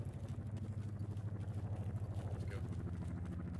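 Military helicopter arriving in the video game Arma 3, a steady low rotor and engine drone with rhythmic blade chop running throughout, fairly loud and continuous, with faint voices underneath.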